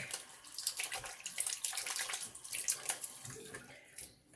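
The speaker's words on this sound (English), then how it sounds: "Now let me rinse my hand off" Running tap water over a hand at a sink, a steady close splashing stream with uneven bursts as the hand moves through it, tapering off at the end, no talking.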